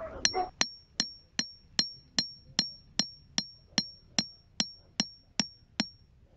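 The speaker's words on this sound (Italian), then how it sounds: "un picchetto come vedete così lo infilo dentro io do qualche martellata per rompere diciamo la crosta" Steady metallic hammer blows drive a stake into hard garden ground about twice a second, over a dozen sharp ringing hits in an even rhythm, close and clear.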